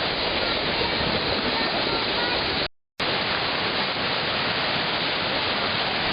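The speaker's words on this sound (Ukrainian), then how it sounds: "ну от нарешті ми побачили істинний той водоспад" A constant roaring rush of falling water from the Düden waterfall in Turkey, broad and even, broken by one brief dropout partway through.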